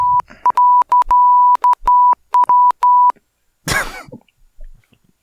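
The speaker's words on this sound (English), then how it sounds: "He's communicating in Morse code." Morse code beeps of a single steady tone, sent as a close, loud run of short and long pulses for about three seconds, followed by a cough or throat-clearing.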